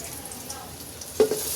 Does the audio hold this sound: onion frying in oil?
yes